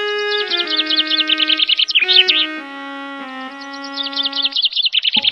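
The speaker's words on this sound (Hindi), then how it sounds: "पक्षी उनको एक मीठा सा गीत सुनाती है" A bird sings a sweet, bright song of rapid repeated trills and chirping phrases, pausing briefly midway before resuming, close and clear over a soft sustained tone.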